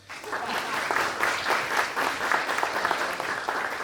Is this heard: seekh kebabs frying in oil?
no